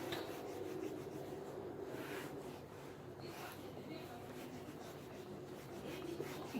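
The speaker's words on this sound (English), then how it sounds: "let me rub this part" Writing rubbed off a classroom board during a maths lesson, a steady, faint scraping rasp that continues without a break across the whole stretch.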